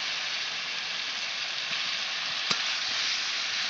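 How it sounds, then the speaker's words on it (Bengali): Chicken with salt and spices sautés in a pan with a dense, even sizzling hiss, steady and close throughout, with a single brief spatula tap. There is no talk. "লবণ দিয়ে আর একটু কষিয়ে নিচ্ছি আমি।"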